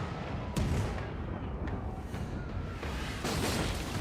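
Ship cannons fire in a Pillars of Eternity II naval battle, several muffled booms landing at irregular intervals over a dense, steady rumble of game sound.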